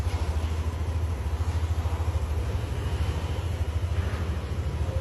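A 2023 Yamaha NVX155 V2 scooter, freshly fully serviced, idles close by with a steady, low, rhythmic engine throb that stays even throughout.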